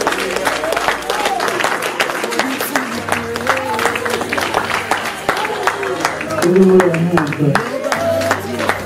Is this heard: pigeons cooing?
no